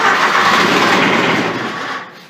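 The engine of a Grasshopper 721D mower cranks and catches, a loud, steady, close mechanical roar lasting about two seconds before easing off, with no talk.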